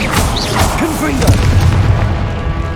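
Booming blasts from the Confringo fire spell in the video game Hogwarts Legacy, loud deep explosions layered with whooshing and crackling spell effects throughout.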